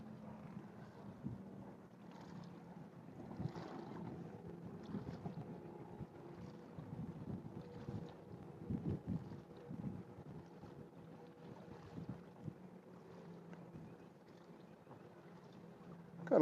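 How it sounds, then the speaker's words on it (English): Low, steady wind rumbles and buffets a microphone outdoors by the Georges River, with occasional stronger gusts; faint and continuous throughout, no voices. "Got a little bit of wind out here today"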